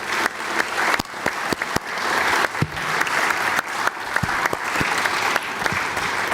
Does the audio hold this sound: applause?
yes